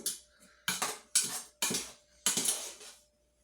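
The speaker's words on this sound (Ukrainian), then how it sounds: "Також все це перемішую." Four or five close, brisk strokes of a spoon clinking and scraping in a bowl as cold soup ingredients and sugar are stirred, then quiet.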